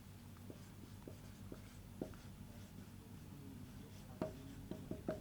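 Pen or chalk writing numbers by hand, faint scratchy strokes in quick irregular taps, with a few sharper marks near the end, heard close and quiet.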